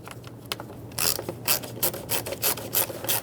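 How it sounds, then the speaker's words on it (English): A tool tightens the two small screws on a new mass airflow sensor in a 2006-2011 Honda Civic, giving close, crisp ratcheting clicks in short bursts after a quiet start. "put the two screws back in"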